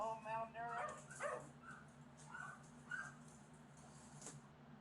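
Malnourished dogs in a filthy house give a few yips and whimpering barks, faint and somewhat distant, while people talk over them.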